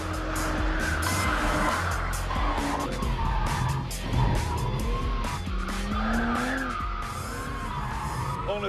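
A BMW 1M coupé driven hard in M mode, its engine roaring continuously with rising and falling revs and tire squeal threaded through, loud and close throughout.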